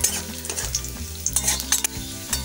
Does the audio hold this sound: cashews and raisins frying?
yes